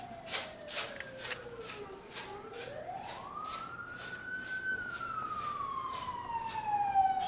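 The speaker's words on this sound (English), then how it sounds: "The siren." An emergency siren wails in the background, first falling and then rising into a long sustained tone. Sharp, rhythmic tapping sits over it, and no one speaks.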